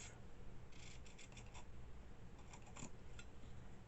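Scissors snip through paper, cutting petal shapes in to the center for a boho cottagecore soft box craft; repeated short crisp snips come in clusters over a steady low background hum, close and fairly quiet.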